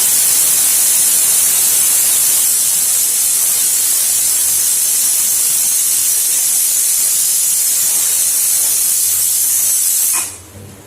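Steady, loud sizzling hiss of tempering spices frying in hot oil for dal, continuous for about ten seconds before dropping off abruptly near the end.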